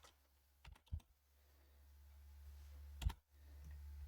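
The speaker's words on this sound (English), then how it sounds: "All I have to do is type Debian here." Light taps on a computer keyboard, a quick cluster of three or four clicks followed after a pause by another short burst, faint and close in a quiet room.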